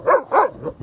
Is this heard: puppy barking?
yes